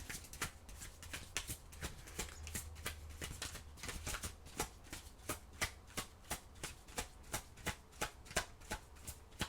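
Tarot cards being shuffled up close, a quick run of crisp riffling flicks in a steady rhythm for about ten seconds, quiet and with no talking.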